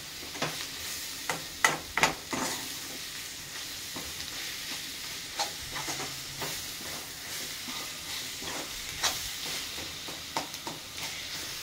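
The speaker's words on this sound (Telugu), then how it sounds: "అల్లం వెల్లిగడ్డ, కారం, పసుపు, ధనియాల పొడి అంతా కొంచెం ఫ్రై చేసుకోవాలి" Onions sizzle steadily in a pan with ginger-garlic paste, chili powder, turmeric and coriander powder for a chicken gizzard curry, with sharp spoon scrapes and clinks of stirring throughout.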